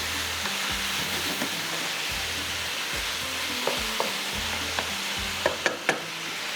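Chicken pieces fry in butter with black pepper and salt, giving a steady close sizzle and bubbling that runs throughout, with a few sharp pops and clicks toward the end.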